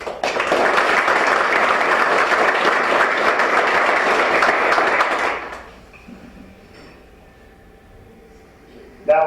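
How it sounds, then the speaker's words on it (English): An audience at a local 8-ball pool tournament claps in a sustained burst of applause for about five seconds, then fades to a quiet room with a few faint knocks. "I want everybody to give Calvin a big round of applause for taping our show this year"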